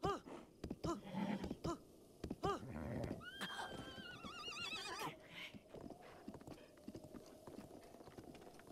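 Horse in the video game Breath of the Wild neighing with loud whinnies over clip-clopping hooves, followed by a long, wavering neigh and then more hoofbeats, with snorts and occasional game sounds.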